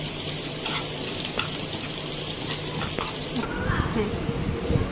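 Garlic and onion frying in a pan, a loud continuous close sizzle with occasional stirring clicks, and a voice speaking over the cooking toward the end.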